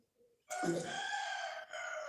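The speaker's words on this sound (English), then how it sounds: "How do you call the crying of the cock in English?" A single long rooster crow rings out clearly and fairly close, holding steady for over a second with a brief break near the end, with no talking over it.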